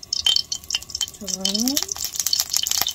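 Sesame oil crackles and spatters in a hot frying pan, a close, busy hiss of sharp pops throughout, joined by a short spoken count and a brief clink of utensils.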